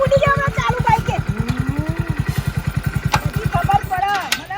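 A motorcycle engine idles nearby with a steady, rapid thumping pulse, loud and close throughout, while people talk over it.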